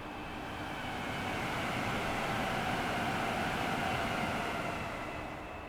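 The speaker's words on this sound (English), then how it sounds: "That was a train." Simulated train in Train Sim World 5 on the West Coast Main Line South rumbling past, a steady broadband roar that swells and fades over several seconds with no talk.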